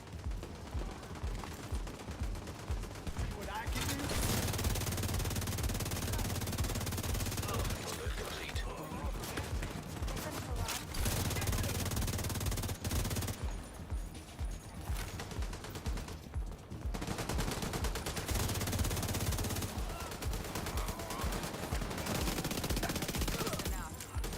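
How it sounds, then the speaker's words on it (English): SMG gunfire in The Division 2 comes in repeated sustained bursts of rapid shots with short pauses between them, loud and close, over game ambience. "It's a nice little SMG though. It's on the slower side."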